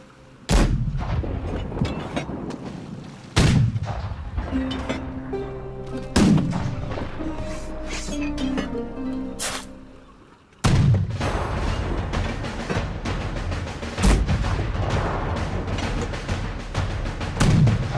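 Loud booming ship cannon shots in a VR sailing video game fire at irregular intervals over a dense rumble of battle noise, each blast sharp and heavy.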